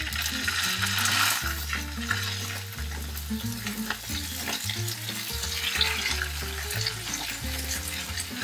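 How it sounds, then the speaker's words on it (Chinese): Steak searing in hot oil in a pan, a continuous close sizzle and crackle mixed with scraping and stirring, without talk. "你在煎第一面的时候，它就是会出汁"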